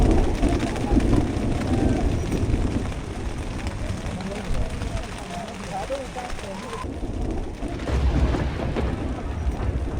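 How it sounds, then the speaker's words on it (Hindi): Heavy rain pours at high altitude on a Himalayan mountain trek in Himachal, with deep rumbling thunder rolling underneath and a voice speaking over the storm. "हमारा स्वागत करती हैं बारिश की तेज बूंदें"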